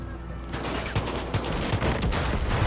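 Gunfire in the video game Far Cry Arcade, a rapid run of sharp shots starting after a short lull and continuing loud and dense to the end.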